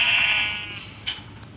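Sheep bleating in the video game Minecraft, one short digital bleat that fades out, followed by a faint click, with no talking over it.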